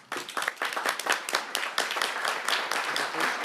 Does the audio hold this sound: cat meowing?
no